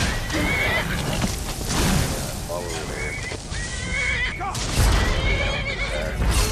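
A horse in Skyrim neighs and whinnies loudly and close, with repeated shrill calls over hoofbeats and game noise, while someone talks over it.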